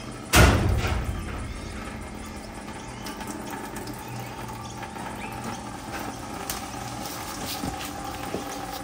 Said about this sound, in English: Drain coolant.